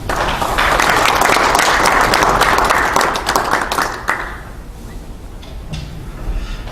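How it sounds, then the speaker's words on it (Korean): Loud applause from a congregation at a Korean Presbyterian presbytery division worship service in a church, sustained for about three seconds before thinning into scattered claps and room noise. "우리 노 회장님과 노회 임원들 한 번 더 큰 박수로 한번 격려해 주시면 좋겠습니다"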